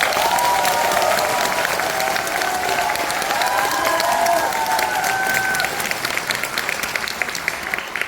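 Sustained audience applause fills a hall at a Korean national assembly policy forum of home long-term care providers, dense and steady throughout with a few faint voices mixed into the crowd.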